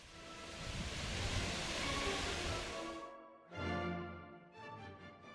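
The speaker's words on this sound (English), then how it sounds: "It is situated in a raised pool with water cascading over stairs that radiate out on all four sides." Water from a raised pool fountain cascades over stairs radiating out on all four sides, a steady broadband rush that stops abruptly, then resumes in two shorter surges.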